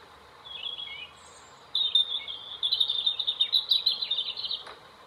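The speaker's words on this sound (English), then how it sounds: "That's the sound of the robin." A robin's high, clear song in short phrases of warbling notes, slightly tinny as if played through a phone speaker, with quiet pauses between.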